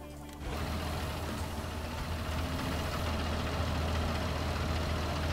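A vehicle engine idles in Farming Simulator 19, a steady low droning rumble that starts abruptly and holds at an even, fairly loud level with no talking.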